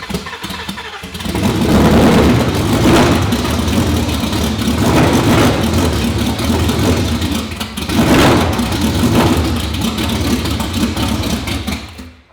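A 2019 Roush Stage 3 Mustang with a blown engine cranks over and catches, then idles roughly with a loud, lumpy, choppy rumble and a few sharp revs throughout, before cutting off at the end.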